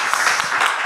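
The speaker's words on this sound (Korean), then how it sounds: "여러분 다시 한번 큰 감사의 박수 한번 보내주시면 좋겠습니다." A short burst of audience applause at the close of a church lecture, many hands clapping in a dense, even patter for under a second.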